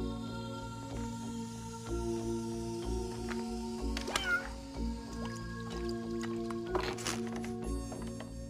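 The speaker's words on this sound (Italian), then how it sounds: "Era solo un gatto vivo." A live cat meows once or twice, fairly clearly, over a low steady hum and faint scattered background noises in a comedy film scene.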